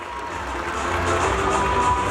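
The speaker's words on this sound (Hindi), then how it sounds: "एक बार जोरदार तालियां हो जाए" An audience at a school's annual event claps loudly after a dance performance, a steady, dense wash of applause mixed with some cheering that swells slightly toward the end.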